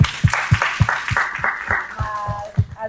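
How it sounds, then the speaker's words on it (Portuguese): An audience at an indoor business event gives a brief round of applause, with fairly regular, distinct claps close to the microphone. "Ó, uma salva de palmas."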